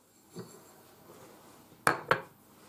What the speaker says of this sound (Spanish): Ahora echamos el azúcar moreno